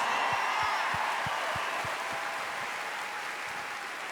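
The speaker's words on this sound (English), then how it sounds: "Let's give them a round of applause." Awards-show audience applause at the country music awards, a steady wash of many hands clapping at moderate distance, fairly soft and even, with no voices over it.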